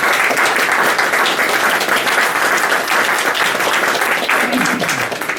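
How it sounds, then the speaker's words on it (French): Audience applause fills a museum exhibition opening on medieval Liège, dense steady clapping at close range that holds loud throughout before tapering slightly at the end. "je vous demande de l'applaudir"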